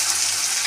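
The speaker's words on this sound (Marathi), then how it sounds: "जिरं मोहरी तडतडून द्यायचं बरं का" Cumin and mustard seeds spluttering in hot oil as a steady, close frying sizzle with fine crackle throughout, no voices present.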